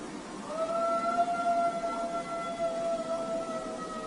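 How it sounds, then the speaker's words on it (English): A dog howls at night, holding one long, steady, slightly wavering note for several seconds over a constant hiss of background noise. "so I'm wondering if this was just a really old dog trying to howl."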